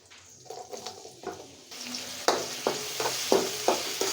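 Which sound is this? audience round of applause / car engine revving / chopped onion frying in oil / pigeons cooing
chopped onion frying in oil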